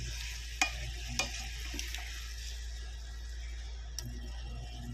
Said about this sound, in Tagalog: Ituin muna natin ang onions bago natin ibuwas dito ang sauce.